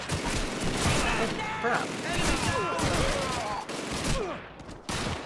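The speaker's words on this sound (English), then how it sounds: "one of our guys is on the machine gun" Machine gun fire from an MG emplacement in the Call of Duty 2 World War II shooter, dense overlapping bursts and battle noise running throughout, with someone talking over the gunfire.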